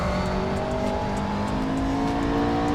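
McLaren 650S engine humming steadily at Lime Rock Park in a racing video game, a continuous loud drone with faint tire noise, no voices.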